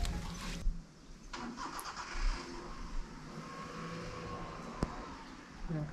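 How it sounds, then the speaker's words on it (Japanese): A car passes outside, heard as a faint, distant engine whoosh that swells and fades. It sits under quiet indoor room sounds with light clicks and a brief sharp tap. "車の音が聞こえるね。"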